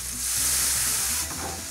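Garlic, cloves and cayenne pepper sizzle in a hot pan, a steady loud close frying hiss that swells briefly and eases slightly near the end.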